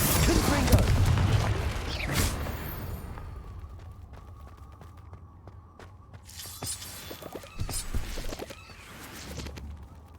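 A burst of explosive blasts and shattering debris from the Confringo fire spell in the video game Hogwarts Legacy, loud and crackling at first, then sparser clinks and rumbles, with a second blast later amid game effects.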